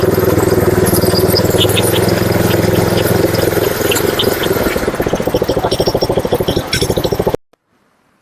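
A front rotary power weeder's small engine runs loudly and close, a steady throbbing idle with rattling, clinking vibration that turns into a faster pulsing before cutting off abruptly near the end.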